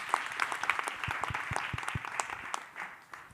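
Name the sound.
applause for Bernardia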